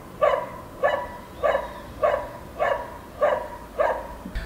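Dogs bark in a steady series of six sharp, evenly spaced barks, about one every 0.6 seconds, loud and near, with no voices over them.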